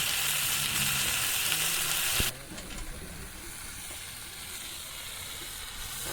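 Spices frying in oil for a village-style Bengali puti fish curry with yam, a dense steady sizzle that drops to a softer, lower simmering hiss partway through, with no talking.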